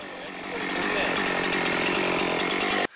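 A repaired chainsaw runs steadily at a high, buzzing idle-to-mid throttle for nearly three seconds, loud and close, then cuts off abruptly.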